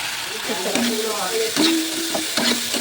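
Eggs frying in a pan for an omelette, with steady close sizzling and occasional stirring scrapes, while a voice talks over the cooking throughout.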